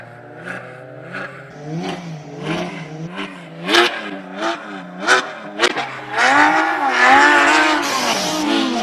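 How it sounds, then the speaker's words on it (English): An all-wheel-drive Audi race car accelerates hard up a hill-climb course at a classic car speed event, loud and close, its engine revving in rising, falling bursts through repeated gear changes, with a rough snarling surge near the end. "One of the loudest cars going up the hill thus far this morning. All-wheel drive Audi."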